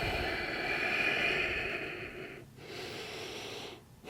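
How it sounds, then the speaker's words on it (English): A deep, steady breath during a foam roller exercise: a long airy inhale or exhale, close and soft, with brief pauses between breaths. "Deep breath."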